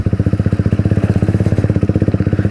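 A modified Honda CBR 150 motorcycle engine runs close and loud with a fast, even pulsing beat, steady throughout with no voices.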